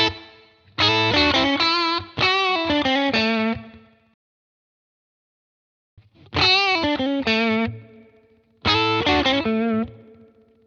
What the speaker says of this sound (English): we've gone from like a really big, luscious reverb to something way more controlled